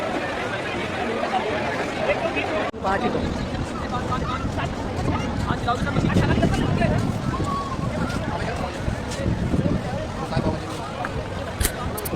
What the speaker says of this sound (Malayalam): നല്ല തിരക്കുള്ള ബീച്ചാണ് ജുഹു ബീച്ച്